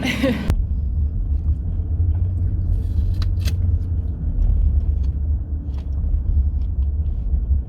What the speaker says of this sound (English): I'm coming up on a truck.